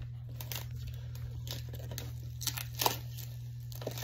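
Paper or plastic packaging crinkles and tears in short bursts over a low steady hum, close by and fairly quiet.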